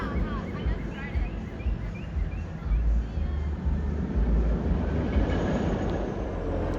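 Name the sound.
empty amusement park ride train running at Cedar Point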